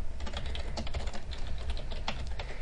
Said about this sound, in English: I can type my subject.